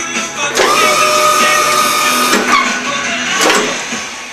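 A 1500 lb 12V electric forklift motor strains with a loud, continuous whining hum as it lifts, the pitch wavering slightly with a few brief mechanical knocks along the way.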